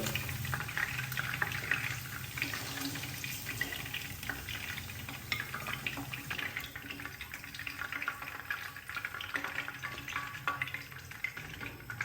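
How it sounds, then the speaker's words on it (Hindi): Chicken deep-frying in oil for chicken pulao, a steady, fairly quiet bubbling sizzle with gentle crackle, continuous and close with no talking. "और अभी मैं चिकन को तकरीबन 5 से 7 मिनट के लिए फ्राई कर लूंगा।"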